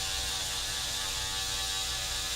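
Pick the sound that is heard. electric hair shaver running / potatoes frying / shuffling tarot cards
electric hair shaver running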